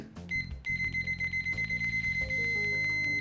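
A UNI-T UT89C+ multimeter gives its continuity beep: a faint, high electronic tone that repeats in quick, evenly spaced pulses, with some low handling noise underneath.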